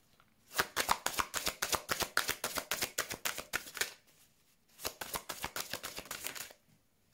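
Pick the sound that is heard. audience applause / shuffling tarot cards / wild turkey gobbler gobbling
shuffling tarot cards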